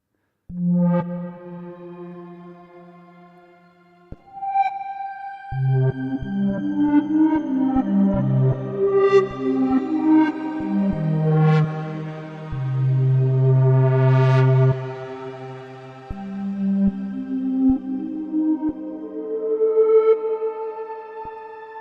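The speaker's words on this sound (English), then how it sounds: "we can also use the reverb and the new shimmer reverb, which is awesome." A sustained synthesizer plays slow, evolving chords with a bright, shimmering reverb tail that rises into high sparkling overtones, with no talking.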